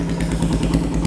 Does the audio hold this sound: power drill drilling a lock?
no